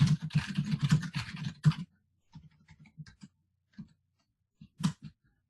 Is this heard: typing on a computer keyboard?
yes